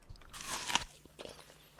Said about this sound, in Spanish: Cuando mordemos una manzana.